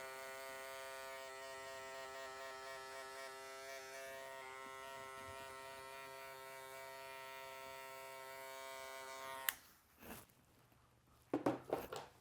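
A close electric hair trimmer hums steadily for several seconds, then switches off, followed by a few soft handling clicks and rustles.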